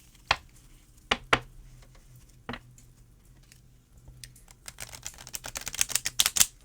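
Oracle cards being shuffled give off scattered crisp taps and flicks, sparse at first, then a quicker run of riffling clicks toward the end, close and fairly quiet.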